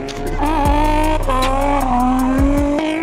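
At a drag and drift event, a car drifts through tyre smoke, its engine roaring loudly and revving up and down while the tyres squeal in repeated bursts.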